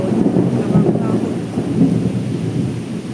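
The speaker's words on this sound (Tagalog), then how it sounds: "Kumulog siya." Thunder rolls low and heavy as a typhoon approaches, a sustained rumble with wind buffeting the microphone and rain faintly beneath, no speech.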